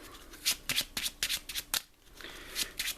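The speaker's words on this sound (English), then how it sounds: "I'll give that a nice shuffle" A card deck for the Marvel Champions card game being shuffled in a few quick riffling bursts, close and crisp, with short pauses between them and no talking.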